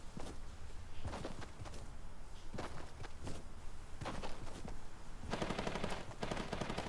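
Rapid gunfire from the mobile battle royale game Fortnite Mobile, bursts of shots repeating through the clip with a dense, sustained volley near the end, loud and close over steady game background noise.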